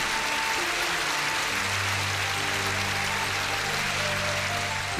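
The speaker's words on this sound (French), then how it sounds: "applaudissez Jésus" Congregation applause during a French-language worship service, a steady broad wash of clapping filling the room for the whole stretch, with faint sustained musical tones underneath.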